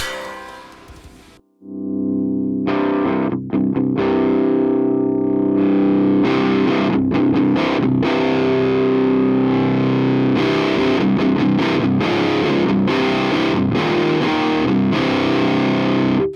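Distorted electric guitar through a classic Marshall Plexi amp set at volume 2, a loud, continuous heavy riff with thick low end that starts after a brief quiet moment and carries on steadily to the end.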